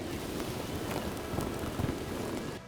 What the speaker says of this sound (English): here came another monsoon rain, so it just drenched us one more time